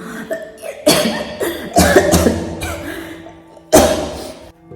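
Several harsh coughs in quick bursts, close by, with short pauses between them and a final loud cough near the end.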